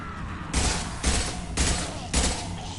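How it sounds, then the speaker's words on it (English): Assault rifle fire in Mass Effect 2 Legendary Edition, with four short, loud bursts of automatic shots about half a second apart, each a sharp crackling volley over low combat rumble. "I love this assault rifle, man"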